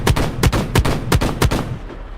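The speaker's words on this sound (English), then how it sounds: "Shoot the tank with them. I want to see how strong the shotguns are" Secondary shotguns on a combat tank in the video game Silica fire at a tank, five loud, heavy booming blasts in a quick, even rhythm, then a fading tail.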